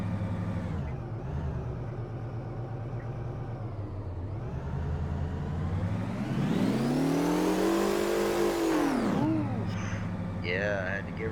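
A heavy truck's engine in American Truck Simulator, hauling a special transport load, drones steadily, then revs hard to a rising roar that peaks and falls away, followed by a few short tonal blips.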